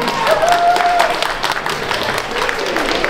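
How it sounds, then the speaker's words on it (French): Audience applause for child winners of a cosplay contest, a continuous moderate clapping from a crowd with a brief whistle or voice rising early on. "on les applaudit encore une fois"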